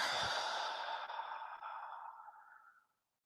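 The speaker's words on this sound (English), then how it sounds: "blow everything out, breathe it in, breathe it out" One long, deep breath slowly let out, a soft airy exhale that fades over about three seconds, close and without talk.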